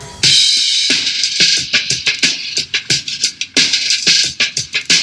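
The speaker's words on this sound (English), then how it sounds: "you should be able to create a simple rock beat that sounds like this" A quick, rhythmic pattern of percussive hits and bright hissy taps, a simple rock beat made by foot stomps, hand claps and mouth sounds.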